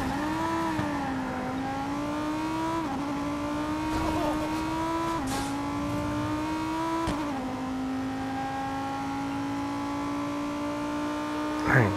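A loud car engine in a video game revs and holds a high, buzzing whine, shifting pitch several times, with a brief sharp burst near the end.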